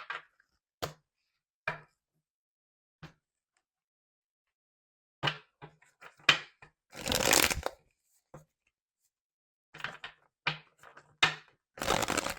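Tarot cards being shuffled up close in short separate bursts of riffling and slapping, with quiet gaps between them and a longer, louder riffle near the middle, no talk.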